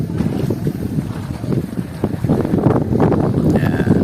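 Wind gusts across the microphone at a beach in Caramoan, Philippines, a loud continuous rushing roar that swells and eases with no voices heard.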